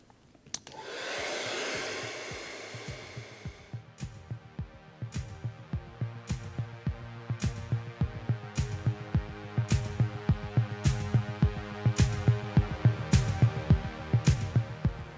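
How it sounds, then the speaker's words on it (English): A hair dryer blow-drying hair in a salon styling session, a loud steady whooshing roar with a rhythmic throbbing pulse as the airflow shifts, close and continuous, with no talking. "Now I'm going to give it a directional blow dry."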